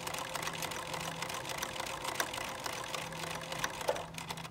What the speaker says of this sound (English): So it's gonna stitch this backwards. Just a straight stitch backwards.